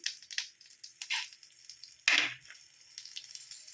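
Cumin, fenugreek and coriander fry in a pan for a prawn gravy, giving quiet scattered sizzles and crackles with one louder burst partway through and short gaps in between.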